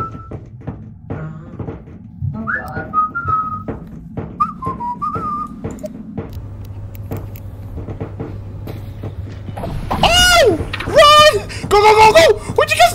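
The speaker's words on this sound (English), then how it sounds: "Did you guys hear that whistling?" Ominous whistling echoes through a cave in the video game Content Warning, a thin wavering tone rising and falling at moderate volume beside a low rumbling drone, with people talking over it throughout.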